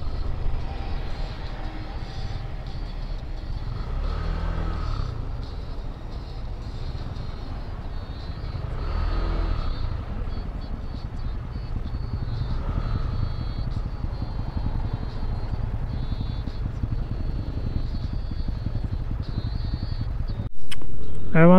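Heavy road traffic on a highway in the Philippines, heard from inside a vehicle as a continuous low engine and road rumble with passing swells, then a brief sharp noise near the end.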